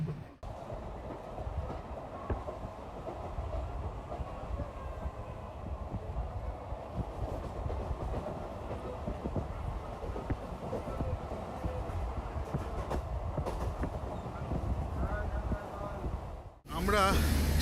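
A passenger train runs on its rails into Kharagpur station in India, heard from inside as a steady, continuous rumble and clatter of wheels that cuts off abruptly near the end.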